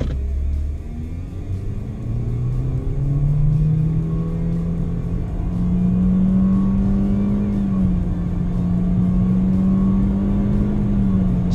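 Toyota C-HR accelerating hard from a standstill to 100 km/h in Sport mode, heard from inside as an engine drone that climbs steadily in pitch, levels briefly and keeps rising, with road rumble underneath and no speech.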